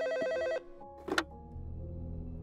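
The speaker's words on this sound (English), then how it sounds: "answer the phone. It's interrupting my show." A telephone ringing inside a Minecraft roleplay scene set in a family diner: a loud electronic ring burst up close, then a sharp clatter and a low sustained hum after it, with no talk.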